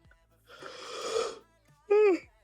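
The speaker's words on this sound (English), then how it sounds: "Of course I'm yawning." A person yawns, with a long breathy drawn-out inhale followed by a brief voiced, wavering sigh at the end, close and fairly quiet.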